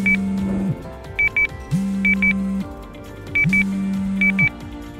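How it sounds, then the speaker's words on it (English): A social distancing wristband buzzes and vibrates in repeated cycles: a low droning hum roughly a second long alternating with pairs and triplets of short, higher-pitched beeps, close and clear. "the wristband started vibrating and also gave a buzz sound"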